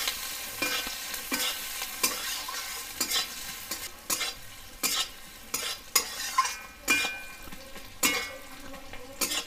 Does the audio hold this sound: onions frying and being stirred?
yes